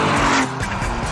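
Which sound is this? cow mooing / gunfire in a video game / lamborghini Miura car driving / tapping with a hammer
lamborghini Miura car driving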